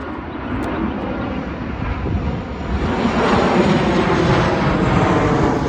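An airplane passes overhead with a steady, broad roar that swells louder as it approaches, heard outdoors with some wind rumble and no talking.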